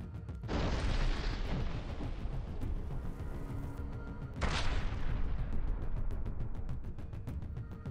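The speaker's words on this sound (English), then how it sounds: "artillery units belonging to the Dnipro Group struck Ukrainian Armed Forces defensive positions in the Zaporizhzhia region" Artillery fire striking Ukrainian defensive positions in the Zaporizhzhia region: two heavy, sustained blasts with long rumbling tails, the second starting around mid-clip, under continuous crackling background noise with no voices.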